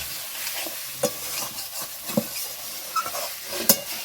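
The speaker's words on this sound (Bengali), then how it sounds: "এই কাঁঠাল এবং আলুটা ভালো করে আমি কষিয়ে নেব" Pre-fried raw jackfruit and potato pieces being fried in spiced oil in a pan, a soft sizzle broken by several sharp clinks and scrapes of a spatula against the pan, close and with no talking.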